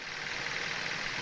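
A warmed-up 2014 Hyundai Sonata engine runs steadily at idle, a continuous near mechanical hum and whir with a broad hiss and no break in level.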